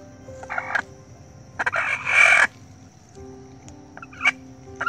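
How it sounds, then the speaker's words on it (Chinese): A chicken squawks loudly as its leg is pressed and pushed during a massage treatment, three harsh bursts, the longest in the middle, over a quiet room hum. "按推时鸡叫的特别厉害"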